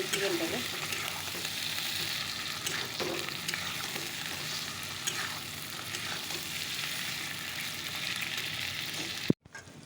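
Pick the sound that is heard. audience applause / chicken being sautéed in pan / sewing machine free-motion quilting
chicken being sautéed in pan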